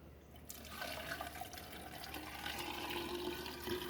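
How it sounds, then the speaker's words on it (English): Salt brine is poured into a jar of pickles, a steady trickling, filling pour that starts after a brief quiet moment and continues close by, rising slightly as the jar fills. "Pour this in carefully here so I don't make a mess."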